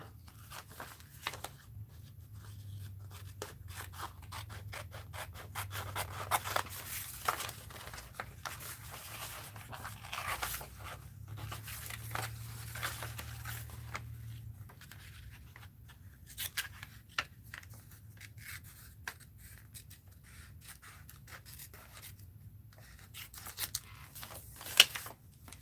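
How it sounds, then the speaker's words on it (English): Paper being cut out with scissors for a mixed-media steampunk art piece, giving soft, intermittent snips and rustles at close range over a low background hum, with no talk. "let's cut this out"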